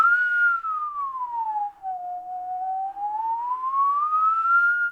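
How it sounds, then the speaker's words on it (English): A single person whistles one long continuous tone that glides from a higher pitch down to a lower one and back up again, clear and steady with no talking. "You should be able to replicate and feel this movement by whistling high and low notes."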